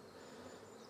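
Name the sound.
bees buzzing around an open hive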